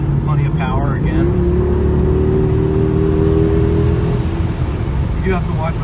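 A 2007 Mercedes-Benz E63 AMG cruising on a highway, a loud, steady engine and road drone with a sustained tonal whine through the middle. Someone talks briefly at the start and again near the end.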